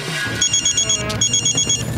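A telephone rings in short, repeated electronic trills, close and clear, with no talking over it.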